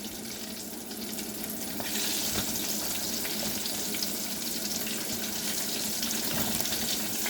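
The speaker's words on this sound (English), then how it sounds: "Oh, they frying up so pretty" Pickles frying in hot oil give a continuous dense sizzle and crackle, steady and close, growing a little louder partway through, with no talk.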